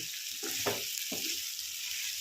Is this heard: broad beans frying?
yes